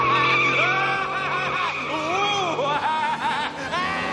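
A cartoon car in The Simpsons, a luxury car, skids with a long tire squeal just before striking a child, loud and sustained with sweeping tones over the scene.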